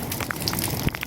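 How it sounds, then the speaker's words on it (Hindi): Rain falls outdoors during a walk, an even patter of drops with small splashes heard close up for about a second. "ये देखें बारिश हो रही है"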